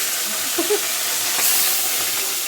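Katla fish frying in oil in a pan, giving a steady hissing sizzle with a few soft bubbling pops, close and even throughout.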